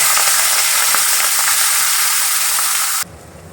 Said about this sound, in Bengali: চিংড়ি মাছগুলো ভাজা হয়ে গেছে